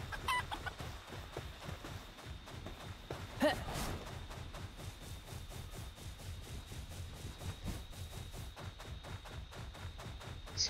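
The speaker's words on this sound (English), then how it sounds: "Lots of chickens around." Chickens cluck softly in the Palworld video game, a repeated low clucking over a faint steady game ambience with no one speaking.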